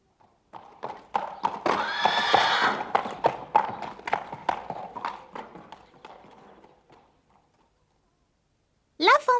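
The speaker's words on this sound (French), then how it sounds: "les sabots des chevaux sur le pavé" Horses' hooves clip-clop on cobblestones in a brisk, rhythmic run of hoof strikes that fades toward the end, followed by a short, sharp burst after a pause.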